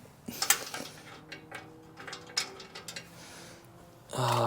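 A ratchet clicks in short bursts while exhaust nuts on a Harley-Davidson Sportster are snugged down, close metallic ticking with light clanks and a louder rustle at the end, no speech.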